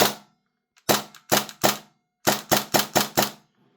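Tapp Airsoft HPA MP9 air rifle running on an 80 PSI airline, firing semi-auto: nine sharp, close clacking shots in two quick clusters, one pair then a rapid string of five, with brief pauses and no voices.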